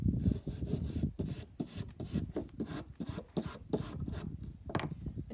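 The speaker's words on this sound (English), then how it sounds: "I'm gonna go ahead and start with my brush" A brush scrubs a piece of driftwood in rapid rasping back-and-forth strokes, a close, fairly quiet rhythmic scratching with no voices.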